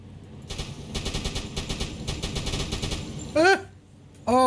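A U-boat deck gun in the submarine game Uboat fires a rapid run of repeated shots for a few seconds at moderate volume. Two short, sharp sweeping electronic tones follow near the end.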